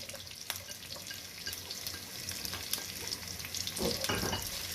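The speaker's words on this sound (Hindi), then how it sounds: "तो चलिए इसको फ्राई करती हूँ जब तक ये गोल्डन हो जाए।" Onions and whole cumin seeds fry in hot oil in a pan for a dhaba-style aloo palak, a steady close sizzle with occasional stirring scrapes and no talk.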